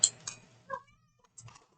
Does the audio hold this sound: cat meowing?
yes